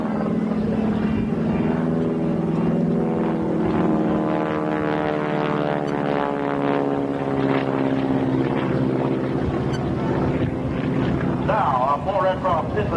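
Propeller-driven aerobatic airplanes crossing over show center at a 1993 air show, a loud droning engine roar that rises and shifts in pitch as they pass, under an announcer's voice over a PA.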